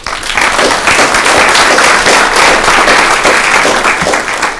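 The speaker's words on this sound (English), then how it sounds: "If you give them a big round of applause." Applause from the audience at a student government meeting, recognizing a committee: dense, loud, sustained clapping filling the room evenly from start to end, close by and without speech.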